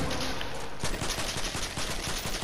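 A mounted gun fires continuously during a video game arena match, a dense, loud stream of rapid shots running throughout without a break and filling the whole moment, with no voices heard alongside it.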